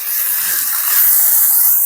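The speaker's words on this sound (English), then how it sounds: "hit it with just a little bit of water underneath. That's going to create a steam and help that cheese melt just that much faster." Water poured onto a hot griddle beneath smash burger patties topped with thick cheese, bursting into a loud, steady steam hiss that stays close and continuous without pause, with no voices over it.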